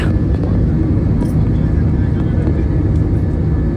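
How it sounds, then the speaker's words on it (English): A loud, steady jet-engine roar fills the cabin of an Airbus A320 climbing after takeoff, without a break, a deep broadband drone with a faint hiss above it. "Takeoff has been completed now and the plane is taking its height."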